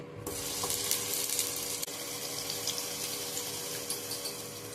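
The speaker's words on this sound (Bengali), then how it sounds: "আলুগুলোকে আমি ভেজে নেব হালকা হালকা করে" Cut potatoes sizzle and fry in hot oil in a karahi, a steady close crackling hiss that runs unbroken throughout with faint bubbling and no talk.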